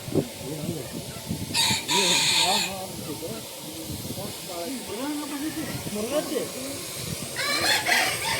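A rooster crows twice, loud and close, with short high bursts standing out over ongoing chatter and background hiss.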